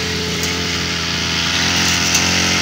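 A grass cutter drones steadily and loudly close by as it trims weeds around bottle gourd plants, holding an even, continuous engine whine with slight rises in pitch throughout.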